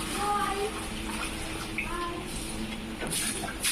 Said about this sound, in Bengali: এই যে এবার এইটা ধোয়া হচ্ছে আর এটা ধোয়া পরিষ্কার হয়ে গেছে